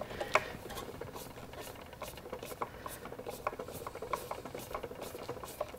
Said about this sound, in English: we'll take our screwdriver, and we'll just screw it back in